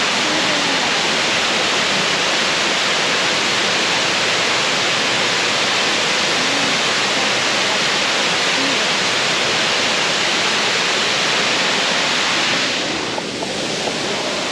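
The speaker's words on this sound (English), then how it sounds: "Wow, that's a big waterfall." Seen up close from the lookout, Brandywine Falls in Cuyahoga Valley National Park, Ohio, pours with a loud, continuous roar of cascading water and a faint breath of wind near the end.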